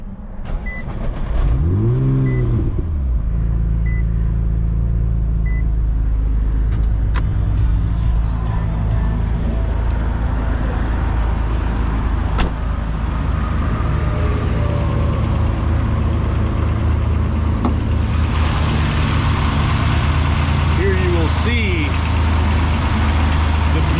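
Car engine cranks and catches with a quick rising rev, then settles into a steady, rumbling idle close by, with a few small bumps and a slight swell in revs later on.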